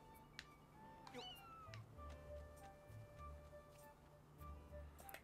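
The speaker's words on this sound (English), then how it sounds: "I want to say this is a cat." A cat in the video game Skyward Sword lets out a short, rising meow, heard once and fairly faintly over a soft game background with light ticking and low thumps.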